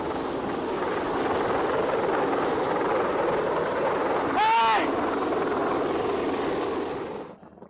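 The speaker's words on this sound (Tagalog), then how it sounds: "Ang matinding hangin dulot ng delikado at sobrang babang paglipad ng Chinese Navy helicopter na nagtagal ng 10 minuto." A Chinese Navy helicopter flies very low over the sea near Ayungin Shoal, its rotor wash a loud, steady roar throughout while someone shouts once.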